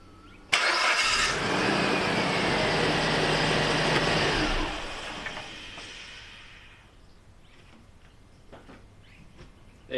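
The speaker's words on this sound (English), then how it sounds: "snorkel intake got blocked, car stalled out" A Suzuki Jimny JB43 engine runs loud and steady with a blocked snorkel intake, then dies away as it stalls partway through, leaving quiet ambience.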